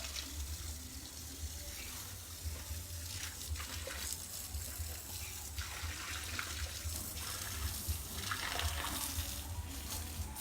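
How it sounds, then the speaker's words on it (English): A garden hose runs outdoors with a steady, soft hiss and splash of flowing water, faint and continuous for the whole stretch. "I'm gonna go ahead and turn the hose on, see if she wants to play in the hose a little bit."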